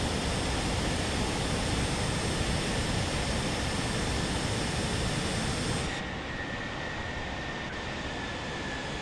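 L1011 TriStar airliner making a low flyby in a flight simulator game at Kai Tak airport, a loud continuous roar of rushing jet noise that drops and dulls abruptly near the end.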